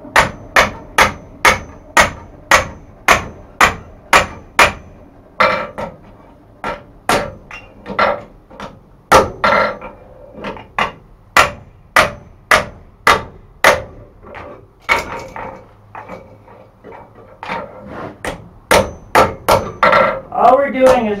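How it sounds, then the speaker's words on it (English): A hammer strikes a drift into the wrapped eye of a hand-forged colonial-style tomahawk, sharp ringing metal blows in quick regular runs broken by brief pauses, loud and close. "we're going to take our drift and stick it in"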